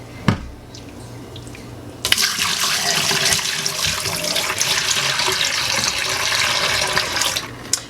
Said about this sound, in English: now that I've poured that top layer of yeast off